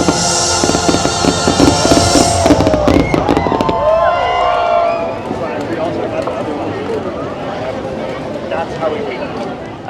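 Fireworks at Disneyland during a summer night show, with loud bursts and crackles over a noisy crowd and music for the first few seconds, then thinning into crowd murmur and voices.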